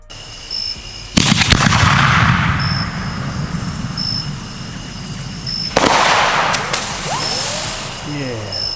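Canister firework shells launch with sharp booming thuds and burst high overhead, two loud blasts each trailing a long rumbling decay with faint crackle, heard outdoors at a distance.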